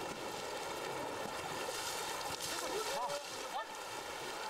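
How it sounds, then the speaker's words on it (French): Splashing and churning river water in the Rapti, fed from the Himalaya, as someone dives in beside an elephant named Dorail, a steady wash of water noise with faint voices underneath. "C'est un délice de plonger avec ce cher Dorail."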